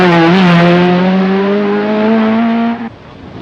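A Nissan 240 RS rally car on a 1985 Manx Rally stage blasts past close and loud, its engine note climbing then holding high before cutting off abruptly into quiet.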